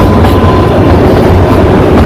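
The Kalka–Shimla toy train rolls slowly past Dharampur, a loud, steady rumble of wheels on rail with faint rhythmic clatter, heard up close from on board with no voices.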